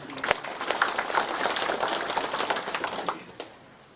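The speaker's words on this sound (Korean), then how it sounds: "큰 박수로 맞아주시기 바랍니다." A crowd claps in a brief burst of applause at a New Year farmers' education session in Icheon, South Korea, dense and moderately distant, fading out after a few seconds.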